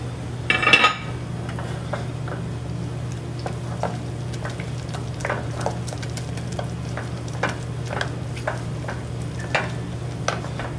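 Risotto rice being stirred in a pan with butter and cheese, a steady low sizzle underneath and repeated soft scraping strokes of a spoon against the pan, close and fairly quiet.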